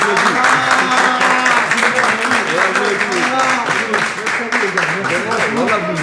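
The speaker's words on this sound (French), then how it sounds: "Particulièrement, voilà, on applaudit." Applause for the team at the close of the GP Explorer event, a sustained wash of crowd clapping running throughout, with a voice talking and harmonic tones over it.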